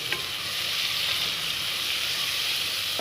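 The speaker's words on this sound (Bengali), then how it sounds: "মশলা প্রায় ভাজা হয়ে গেছে" Masala spices sizzle steadily in hot oil in a pan, cooking for chicken leg pieces, with a continuous close frying hiss and faint stirring, no voices.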